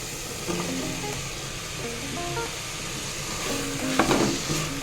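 Tomato and soya chunks fry in a pan with a soft, continuous sizzle, broken by light scraping and clinking as the mix is stirred.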